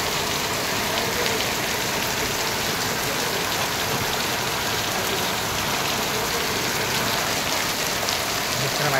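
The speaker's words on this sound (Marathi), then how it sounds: "पाऊस लागायला लागला" Rain falls steadily in a Konkan village, a dense, even hiss of drops that stays loud and unbroken the whole time, with no voices.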